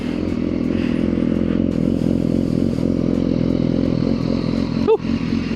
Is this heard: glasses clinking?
no